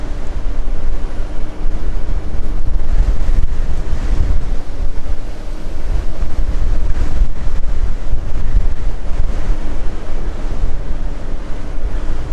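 Strong wind buffets a vehicle on a mountain road roughly 4,000 to 6,000 feet up, a loud, continuous roaring rush with gusty swells and no talk.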